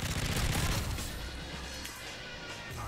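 A burst of loud rapid gunfire in the Call of Duty MW3 video game, strongest at the start, then fading into a softer rattle of shots and background battle noise.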